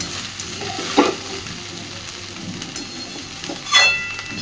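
Leftover-rice fried rice is stirred and mixed in a hot pan with Maggi masala, giving a soft sizzle broken by two distinct scraping stirs, one near the start and one near the end.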